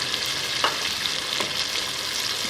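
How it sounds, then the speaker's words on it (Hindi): Ground onion hitting a hot pan for chicken salan, frying with a steady sizzle while a spoon scrapes and stirs a couple of times, close and fairly soft. "पिसी प्याज डाल के थोड़ा सा करेंगे इसको मिक्स"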